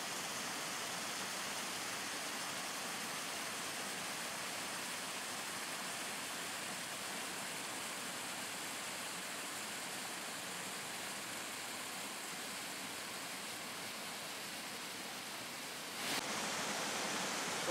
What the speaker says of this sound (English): Well, we made it to the stream.